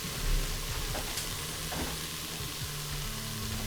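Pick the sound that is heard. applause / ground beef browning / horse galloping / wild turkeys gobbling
ground beef browning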